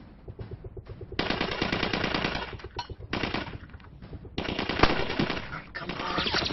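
Sustained machine gun fire in a war drama battle scene, long rapid bursts rattling loudly with brief pauses between volleys, and shouted voices mixed in.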